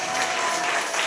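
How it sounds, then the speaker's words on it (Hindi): Church congregation clapping for the Lord during a Good Friday service, a dense, steady burst of applause from many hands filling the space, loud and continuous throughout. "प्रभु के लिए ताली बजाइए"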